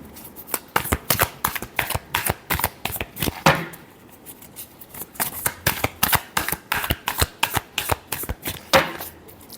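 Tarot cards shuffled by hand in a steady series of crisp, rapid riffling bursts with brief pauses between them, close and fairly loud, with no talking.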